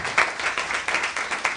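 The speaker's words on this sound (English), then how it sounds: "Let's clap for them." Audience clapping at a youth event on resilience and hard work, a short burst of moderately loud hand claps in quick rhythm, with no talk over it.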